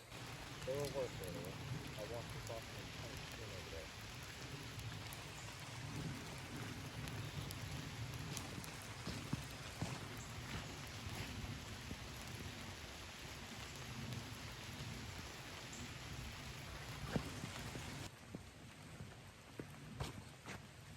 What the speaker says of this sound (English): it's raining a little bit right now